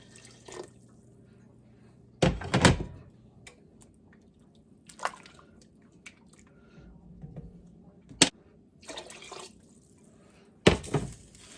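Water poured into a cooking pot of chicken and dumplings with butter, several short splashing bursts and drips separated by quiet pauses, close by in a home kitchen.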